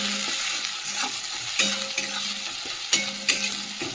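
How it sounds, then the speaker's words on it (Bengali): Ginger-garlic paste fries in a little oil in a pan, a steady close sizzle broken by the occasional scrape and clink of a spoon stirring, with no voices. "আদা রসুনটা একটুখানি তেলের মধ্যে নেড়ে নিচ্ছি।"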